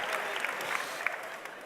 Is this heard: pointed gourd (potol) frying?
no